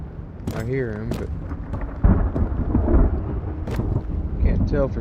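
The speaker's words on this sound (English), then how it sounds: "When that thunder starts hitting, man, it really gets loud in here." Thunder rolling and cracking in the Road to Vostok video game, a loud boom about two seconds in over a steady rain-like rumble, with someone talking intermittently over it.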